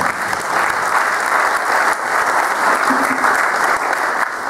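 A church congregation at a wedding ceremony claps loudly and continuously, a dense, sustained wave of applause filling the hall without a break.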